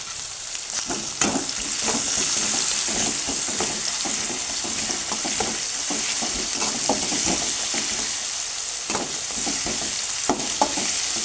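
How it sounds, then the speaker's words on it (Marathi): Ground spice masala, pounded with turmeric, fries in hot oil with a steady loud sizzle and repeated scraping stirs of a spoon, close and continuous throughout with no talking. "मी जो हा कुटलेला मसाला आहे तो मसाला तेलामध्ये टाकते."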